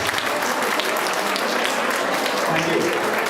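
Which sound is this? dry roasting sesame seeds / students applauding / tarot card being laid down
students applauding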